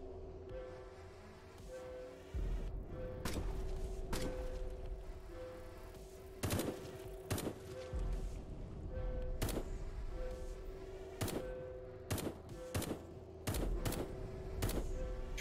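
Gunfire in the game Bonding Ambivalence, sharp separate shots spaced irregularly over a steady droning tone and low rumble, fairly loud against the background.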